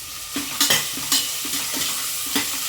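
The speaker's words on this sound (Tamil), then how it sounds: "கொஞ்சமாக உப்பு போட்டு வதக்குங்க" Onions being sautéed with a little salt in a pan for paneer biryani, a spatula scraping and stirring in irregular strokes over a steady, bright sizzle of frying, close and fairly loud, with no talking.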